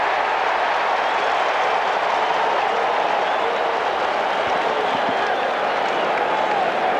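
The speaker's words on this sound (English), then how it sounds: "It is a festive, highly enthusiastic crowd as Wade Boggs awaits the first pitch." A festive, enthusiastic baseball crowd roars at Shea Stadium during Game 6 of the 1986 World Series, a loud, unbroken wash of cheering and noise that holds steady throughout.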